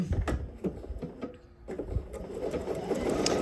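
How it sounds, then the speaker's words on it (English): A sewing machine runs a three-millimetre stitch along zipper tape while sewing the front of a garment, a quick run of close needle taps with small clicks, fairly quiet and near. "now I'm just sewing at a three millimeter stitch length, writing that foot right along the zipper tape"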